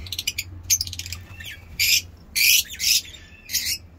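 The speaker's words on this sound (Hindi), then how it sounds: "ये हमारे मिनी ज़ू में आप देख सकते हैं हमारे लव बर्ड्स।" Lovebirds chirping and squawking in short bursts, several sharp shrill calls close by, with a low steady hum underneath.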